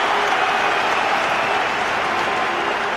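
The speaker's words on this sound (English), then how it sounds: "And it rouses the crowd as much as a try might." A rugby crowd at a Wales versus France Six Nations match roars and applauds in a steady, dense wash of cheering and clapping that holds loud and unbroken throughout.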